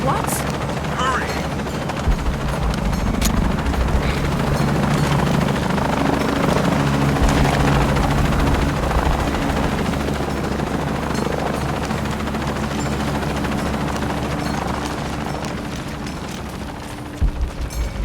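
A helicopter in the video game Shadow of the Tomb Raider drones loudly and steadily with a throbbing rotor beat, mixed with bursts of gunfire and booms, while voices speak over it at times.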